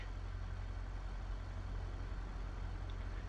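Truck engine in the driving game BeamNG.Drive 0.16, a steady low, droning rumble like an idling heavy vehicle, held at an even level throughout with no speech.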